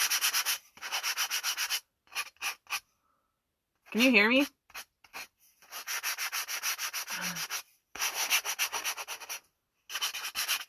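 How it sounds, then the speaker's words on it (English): Small wood pieces hand-sanded with the grain, brisk rhythmic rubbing strokes in repeated bursts with short pauses, close and clear, with a brief spoken question in between. "make sure that you're sanding with the grain and not against the grain"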